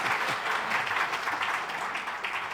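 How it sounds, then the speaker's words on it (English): A literary festival audience in Adelaide claps after a speaker's introduction, a sustained round of applause from a large room that holds even and steady throughout. "Round of applause."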